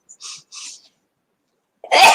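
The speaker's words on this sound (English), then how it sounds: "I feel like I'm going to sneeze" A single sudden sneeze bursts out loudly near the end, preceded by two soft breathy inhales and a short pause of quiet.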